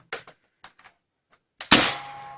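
Nerf Rival Curve Shot Sideswipe blaster fires a ball through a chronograph, a few faint mechanical clicks followed by one sharp, loud pop with a brief ringing tail, nearby and alone.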